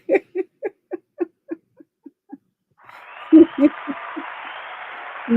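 At the close of a comedy show, a run of rhythmic hooting whoops gives way to a wave of crowd clapping that rises and continues under further shouts and cheers.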